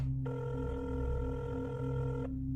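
A telephone on a call gives a single steady electronic ring tone lasting about two seconds, clean and fairly quiet over a low background hum, with no voices.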